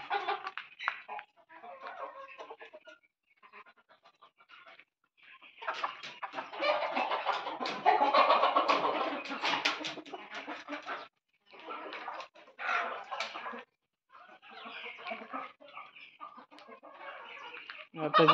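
Native village hens in a backyard cluster keep up a busy, overlapping clucking chorus nearby, swelling into a dense stretch in the middle, then breaking into shorter bursts with brief pauses.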